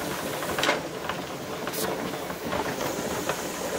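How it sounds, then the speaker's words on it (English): Steam vents from a Presto pressure canner while it processes pineapple, a continuous close rushing hiss with slight fluctuations and faint clicks throughout. "then we should see more steam coming out of the vent"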